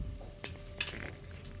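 Whole spices, a lightly crushed black cardamom pod, cumin seeds and bay leaves, sizzle in hot ghee as a base for rajma, with a steady close crackle and a few stirring clinks on the pan.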